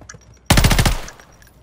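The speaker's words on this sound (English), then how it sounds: "They're shooting at each other." A rapid burst of automatic gunfire from a video game: roughly eight tight, loud shots in under a second, with a brief quiet before and a fading tail after.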